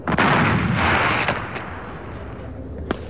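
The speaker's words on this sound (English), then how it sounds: "You bring breakfast to them with the breakfast bazooka." A comedy sketch's mock bazooka for delivering breakfast fires with a loud booming blast that rumbles and decays over a couple of seconds, followed by a faint sharp knock.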